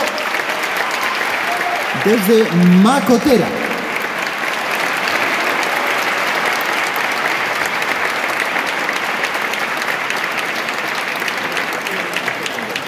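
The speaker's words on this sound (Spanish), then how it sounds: "Víctor, un aplauso" Sustained audience applause for Víctor at a festive village entradilla event, a dense continuous roar of clapping that stays loud throughout, with a brief spoken voice and a short tonal sound early on.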